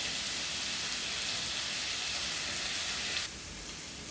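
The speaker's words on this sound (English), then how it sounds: "Now I'll add little peas also here in these vegetables and let it cook for some time" Mixed vegetables sizzling in a pan as peas are added for a vegetable korma, a steady loud hiss of frying that drops abruptly to a lower sizzle near the end.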